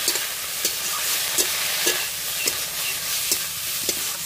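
Ivy gourd leaves being stirred in a pan with salt and turmeric powder, giving a soft steady sizzle broken by periodic scraping strokes of the spatula, close and moderately loud, with no voices.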